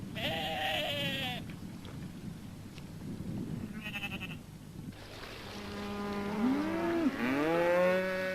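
Cattle low loudly on a farm, several long drawn-out moos one after another with bleating sheep in between, clear and fairly close with no talk.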